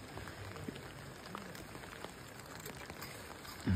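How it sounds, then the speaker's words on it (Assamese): Light rain falls at a Dzukou Valley campsite, a faint, steady patter of drops with no voices. "এতিয়া আকৌ অলপমান বৰষুণ দিছে"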